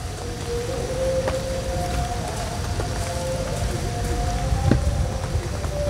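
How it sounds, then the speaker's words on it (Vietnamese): Rain falling in a steady dense hiss, with a faint drawn-out tonal hum running through it and a brief louder knock near the end. "Đi sáng trời mưa nữa nè."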